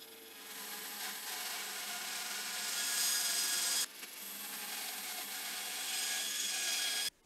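A wood log clamped on a sled is cut by a steady, loud sawing whine that runs continuously. It drops for a moment midway, then resumes until a sudden stop at the end.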